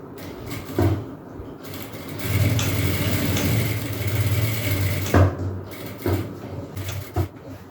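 A domestic sewing machine runs in bursts, stitching one elastic band laid over another, with a steady motor whirr and rapid needle rhythm broken by short pauses and clicks of handling at close range.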